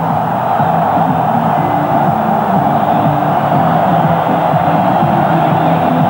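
A large football stadium crowd in Istanbul roars after Turkey scores an early goal against Wales in a 1998 World Cup qualifier, a loud, sustained wall of cheering and chanting with no break.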